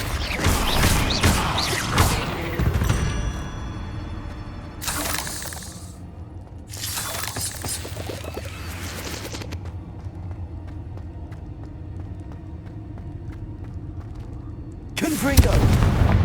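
The Bombarda blasting spell in Hogwarts Legacy goes off in loud explosive bursts with shattering debris and mechanical rattles, several sharp booms separated by quieter gaps, mixed with a voice.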